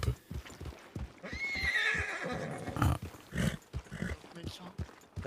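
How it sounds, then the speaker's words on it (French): A horse whinnies loudly and its hooves clip-clop in a town street, the neigh rising mid-clip among scattered footfalls and background voices. "Je pensais juste que vous alliez abandonner votre cheval là parce que normalement c'est interdit les chevaux en ville."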